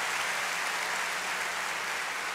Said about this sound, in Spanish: Denle un buen aplauso y claves en esa silla.